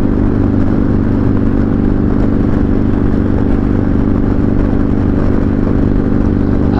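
A motorcycle on the road after a fuel stop and tire pressure check, its engine a steady, loud drone with constant wind and road rumble and no pauses.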